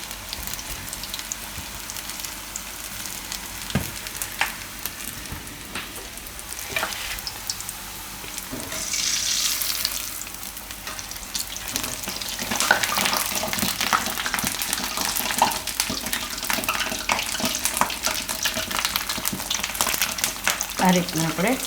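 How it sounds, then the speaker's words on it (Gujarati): Gram-flour bhajiya fritters deep-fry in a pan of oil, giving a continuous crackling sizzle that grows louder and busier in the second half, with occasional sharp pops. "આ રીતના આપણે તળી લેવાનું."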